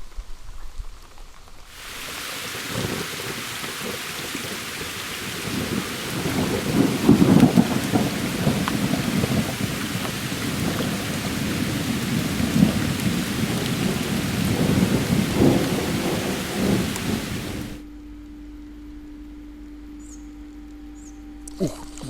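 Steady rain pours down during a thunderstorm on a river, with low rumbling thunder rolling underneath, then cuts off abruptly near the end, leaving a quiet hum.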